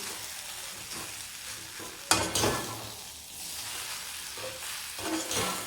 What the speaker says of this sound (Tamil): நல்லா அப்படி கிண்டி விட்டு வேக விடுங்க.